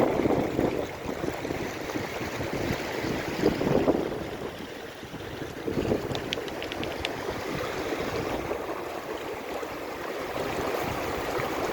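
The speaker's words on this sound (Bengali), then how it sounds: "কনকন করছে ঠান্ডা হাওয়া।" Continuous gusting cold wind roaring across an open microphone in snowy mountains at Chitkul, Himachal Pradesh, steady with slight surges, mixed with a distant watery rush from the Sutlej River; no talking.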